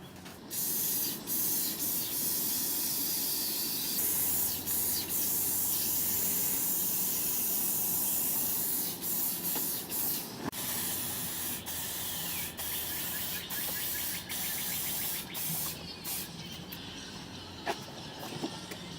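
A spray paint can hisses out gray paint in continuous sustained bursts with brief pauses, close and loud, while painting a background.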